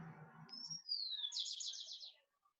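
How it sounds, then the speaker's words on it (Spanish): A small pet bird gives a high whistled note that slides downward, then a rapid run of bright chirps, close and clear after a brief murmur of low background sound. "¿Y ese pajarito?"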